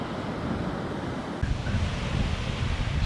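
Dumpy sea waves break near a sea kayak off Kangaroo Island, a broad, continuous rushing wash with a surge midway, mixed with wind buffeting the microphone.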